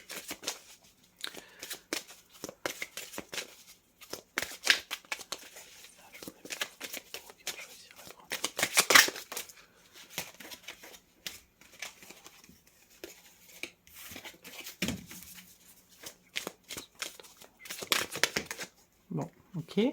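Tarot cards handled, shuffled and drawn, soft close crisp card flicks and slides in irregular bursts, with someone speaking over them.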